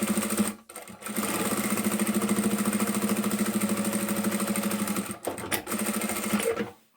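A sewing machine stitches a fabric scrunchie with elastic, running in a steady close whir for about four seconds after a brief start, then stopping and giving a couple of short bursts at the end.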